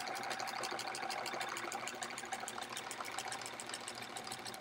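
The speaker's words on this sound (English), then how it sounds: "So stitching in the ditch tonight" A sewing machine machine-quilts horizontal lines on a Splendid Sampler quilt, stitching in the ditch, giving a steady, close, continuous whir with no pauses and no talking.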